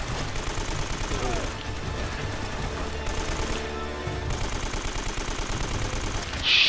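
Constant gunfire in Uncharted: Drake's Fortune, with dense, rapid overlapping shots forming a steady, loud barrage that runs without pause.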